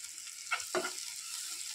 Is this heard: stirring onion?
yes